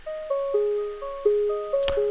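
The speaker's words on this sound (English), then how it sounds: "it's just this little simple saw pluck that we created" A simple saw pluck synth arpeggio steps through short bright notes in an even rhythm, each decaying quickly, moderately loud with a brief noisy burst near the end, part of a dance-track remake.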